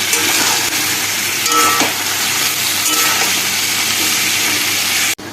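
Meat fries with onion and garlic in a kadai, a loud, steady close-up sizzle that stays constant throughout and cuts off abruptly near the end.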